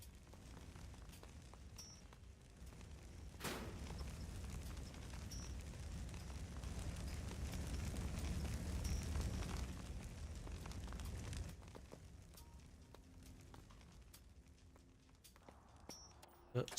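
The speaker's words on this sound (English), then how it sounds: "Like an office area that's on fire." Burning office area in the motorbike game Trials Rising: a steady roaring, rumbling fire bed with a sharp burst near the start, louder through the middle, then easing to a quieter crackle with a final pop.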